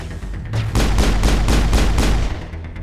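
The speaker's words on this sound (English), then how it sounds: "A few pot shots from these guys." Enemy gunfire in the video game Mass Effect: a rapid burst of loud, evenly spaced shots rattles off for about a second and a half, then trails away, with no talking.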